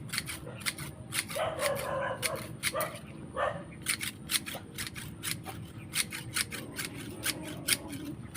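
A dog barks in short bursts in a rural farmyard, near and moderately loud, over a steady rumble of background noise and a run of sharp, regular clicking that continues after the barking stops.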